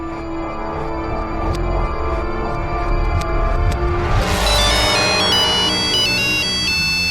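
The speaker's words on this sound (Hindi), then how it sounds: "अरे मानवी का फोन तो यहीं पर है।" A mobile phone ringtone plays loudly and steadily in a room, its repeating electronic melody turning brighter and more tonal partway through, with low background noise beneath.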